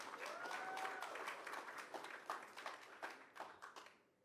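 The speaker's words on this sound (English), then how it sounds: "give yourselves a round of applause" Audience at a New York City celebration honoring the 110th mayor, Eric Adams, breaks into sustained applause, dense clapping from a large crowd that slowly thins and fades out near the end.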